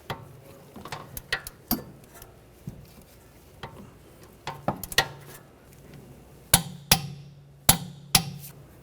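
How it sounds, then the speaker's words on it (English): A torque wrench tightens a bolt to 74 foot-pounds on the rear passenger CV axle of a 2009-2013 BMW 328i xDrive, with sharp, close metallic ticks and clicks arriving in irregular bursts under a quiet background. "Now we're gonna torque that bolt to 74 foot-pounds."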